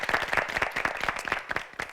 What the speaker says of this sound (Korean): 이분들에게 박수 한번 부탁드리겠습니다.